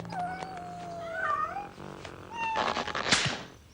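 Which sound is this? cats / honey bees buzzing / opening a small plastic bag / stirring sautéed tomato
cats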